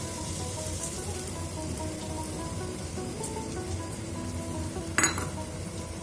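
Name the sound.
beaten egg poured into frying okra, sizzling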